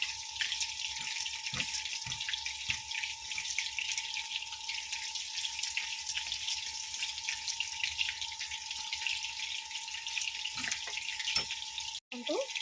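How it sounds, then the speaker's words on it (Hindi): Onions fry on a high flame, giving a steady crackling sizzle with scattered pops and bubbling spatters, close and continuous under a faint hum. "ଦେଖନ୍ତୁ ଧୀରେ ଧୀରେ ବବଲ୍ସ ବାହାରିବା ଆରମ୍ଭ ହେଇଗଲାଣି। କିଛି ସମୟ ହାଇ ଫ୍ଲେମ୍ରେ ତାକୁ ଛାଡ଼ିବା।"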